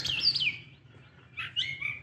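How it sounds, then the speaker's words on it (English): Bright bird chirps in two short bursts near a lake on a Florida morning, clear and fairly close, with quiet pauses between. "The birds are chirping."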